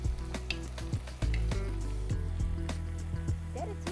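Knöpfli sizzle and bubble in a pan with morel soaking water, a close steady frying hiss with soft stirring and liquid sounds, no talking.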